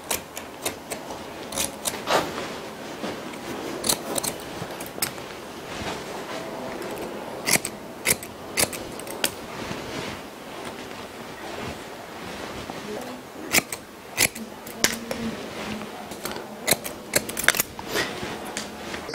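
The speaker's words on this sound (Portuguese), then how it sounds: "Eu vou pegar a tesoura desfiadeira de uma folha de um lado e dentada do outro." Thinning scissors, with one plain blade and one toothed blade, snipping through hair in repeated crisp bursts of clicks over a constant rushing background, close to the microphone, with a voice faintly present.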